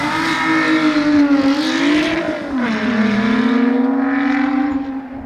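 A Lotus Exige Sport 410 engine revs hard and continuously, its pitch rising and dipping as it climbs through the rev range, loud and sustained with no speech.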